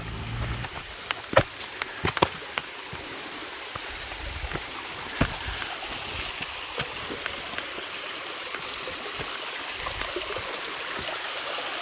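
A mountain stream flows steadily near Zalzal Lake in Azad Kashmir, a constant close rushing and gurgling of water with occasional small splashes and clicks.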